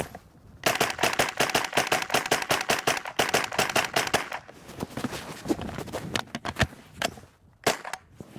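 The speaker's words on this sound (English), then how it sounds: "So what I'll do is I'll shoot this magazine dry, which will be quite fun" A Vector-style minirifle at an IPSC practical minirifle session fires a rapid string of sharp, close shots to empty the magazine, then slows into irregular single shots and pauses.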